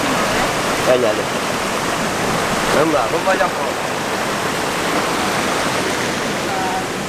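A waterfall gives a steady, broad rushing roar that runs unbroken throughout, while people talk over it.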